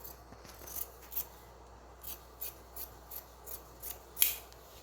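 Scissors snipping through blouse fabric in a series of short, crisp cuts at an uneven rhythm, close and fairly quiet, with no talking.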